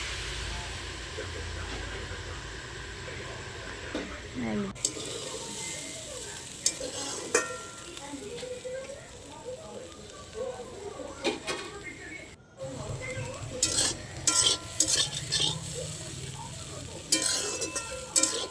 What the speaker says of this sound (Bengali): আমি আলু ভাজা বসিয়ে দিয়েছি। আলু ভাজাটা হোক।